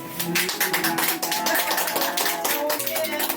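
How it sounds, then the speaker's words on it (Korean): A group of village elders and hosts clap their hands together at a shared meal in a Korean countryside village. The claps are dense and irregular, mixed with voices and chatter. "자, 우리 박수 한번 칩시다"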